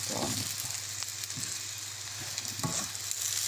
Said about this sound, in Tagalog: ipa-fry din siya natin para mag-brown siya